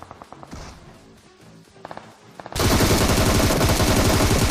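Gunfire in the mobile battle-royale game PUBG Mobile, scattered single shots and short bursts at first, then a sudden loud, dense stream of rapid automatic fire that carries on to the end; no voices.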